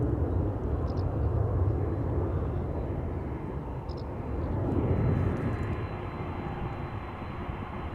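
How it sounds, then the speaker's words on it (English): A Boeing 747-400 freighter, 21 years old, flies with Atlas Air near Amsterdam, its engines a broad, steady roar that swells slightly midway and holds without any voices. "Boeing 747-400 freighter."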